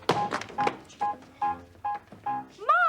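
A telephone is dialed to place a call: six short, evenly spaced keypad beeps followed by a rising, warbling electronic tone, all close and clear.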